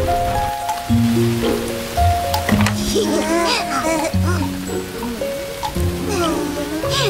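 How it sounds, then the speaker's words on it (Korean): Steady rain patters across a surface throughout, with children's voices chattering and calling out close by over the downpour. "빗소리가 참 듣기 좋아."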